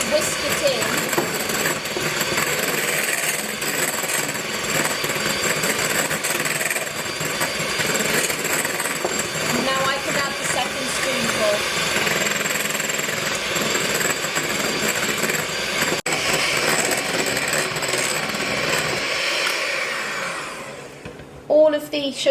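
An electric whisk beats sugar into meringue for a lemon meringue pie, one spoonful at a time, with a steady, loud whirring motor running continuously and close by. It stops abruptly near the end, leaving a couple of clatters.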